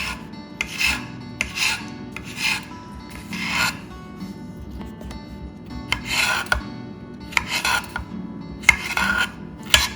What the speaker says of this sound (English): Now I'm ready for some julienne cuts.